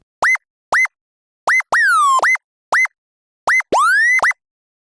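Monophonic legato wip/woop synth notes with oscillator glide, short pitch-swooping blips alternating with longer gliding swoops, spaced in a rhythmic pattern over silence, clean and loud.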